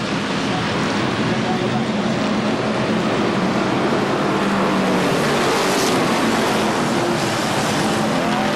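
Several race cars roar off the line at a speedway, a dense, continuous engine drone with a slight rising sweep as they accelerate, loud and steady with a broad wash of noise.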